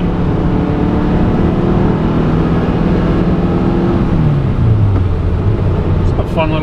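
A 1974 Porsche 914 Can-Am LE accelerates hard out of a turn to around 70 mph, its engine droning loudly and steadily up close, the pitch climbing and then dropping as the gear changes.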